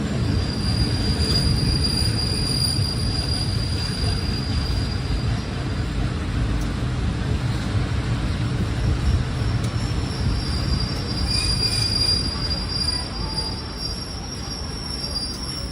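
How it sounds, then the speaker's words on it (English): A commuter train rolls steadily through Thailand with a continuous low rumble, a sustained high wheel squeal, and faint rhythmic clatter, close and loud for the whole stretch, with no talking. "It's a commuter train."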